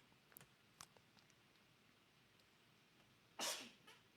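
A single brief sneeze at moderate distance, a sharp burst near the end, with a few faint clicks before it over quiet room noise.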